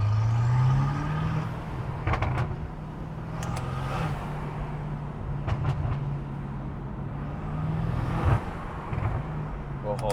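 A loud BMW M5 drives in traffic with a steady engine drone and intake roar from inside the car, broken by several sharp exhaust pops and crackles.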